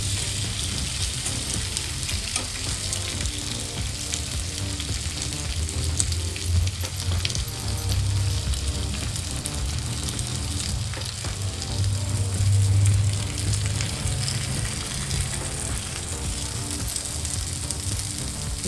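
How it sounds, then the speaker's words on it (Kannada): A high-protein pearl millet (sajje) roti sizzles on a hot griddle, giving a steady, close frying hiss with fine crackle that goes on without a break and swells slightly at times. No voices are heard. "ಸೊ ಈಗ ನಾನು ಹಂಚಿಗೆ ಹಾಕ್ತಾಯಿದ್ದೀನಿ."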